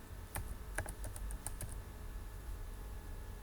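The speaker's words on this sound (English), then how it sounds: "type in the password that you created for that account" A short burst of keystrokes on a computer keyboard as a password is entered: about a dozen quick, close clicks in the first two seconds, then a quiet hum with no speech.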